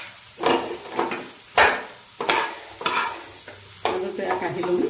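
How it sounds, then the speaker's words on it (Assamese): Potatoes frying in a pan are stirred in several distinct scraping bursts over a steady sizzle, close and fairly loud, with no voices. "এয়া মাজে মাজে লৰাই থাকিম আৰু 5 মিনিটমানৰ পিছত আলুটো অকণমান সিজি যাব।"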